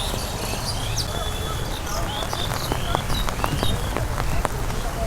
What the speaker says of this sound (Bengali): চারিদিকে পুরো কুয়াশা কুয়াশা মেঘ মেঘ বৃষ্টি বৃষ্টির যে পরিবেশ